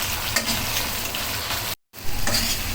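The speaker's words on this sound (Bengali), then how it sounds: "এখন আদা রসুনটাও কিছুক্ষণ ভেজে নেব" Ginger and garlic fry in a pan for beef bhuna, a steady close sizzle with light stirring scrapes, briefly cut off near the end before resuming.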